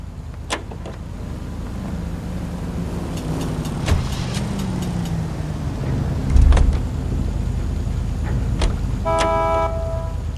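Car driven through city streets in the video game L.A. Noire, with a steady engine drone, passing traffic, short honks and a door or window sound, heard without speech.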